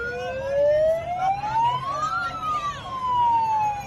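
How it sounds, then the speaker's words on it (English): A siren sound effect triggered by a button, a single rising-then-falling wail sweeping up for about two seconds and back down, loud and close, with faint noise underneath. "She hit the siren button."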